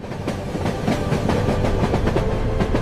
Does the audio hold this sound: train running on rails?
yes